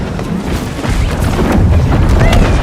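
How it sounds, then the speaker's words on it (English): Cannon fire booms through a chaotic video game siege battle, with dense, loud, overlapping blasts and battle noise. "Cannons, they're focusing our cannons."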